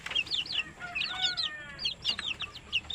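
Chicks kept warm under a lamp peep close by in quick, high, repeated chirps that overlap in a busy chorus, with no talk over them.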